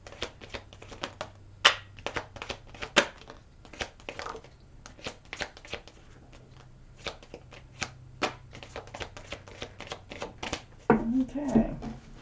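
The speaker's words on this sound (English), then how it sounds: "I put the cards down in the same order that they come out of the deck" Tarot cards are shuffled and laid down from a deck, a busy run of crisp flicks, riffles and soft slaps with sharper snaps now and then, close up under a quiet voice speaking at moments.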